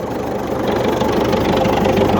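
An MTZ 952 tractor's diesel engine idles close by, a steady low rumbling chug with a fast even knock that holds loud and unbroken for the whole stretch, with no voices over it.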